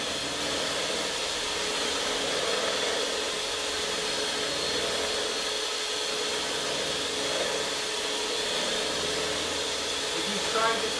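An electric mixer whisks egg whites for a lemon cake with a constant, loud whirring drone that holds steady for the whole span.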